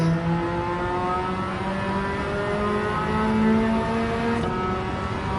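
Four-rotor rotary race engine swapped into a Mazda RX8 in Gran Turismo 7, fitted with high-RPM turbos, droning steadily at high revs with smooth rising and falling pitch, loud and continuous throughout.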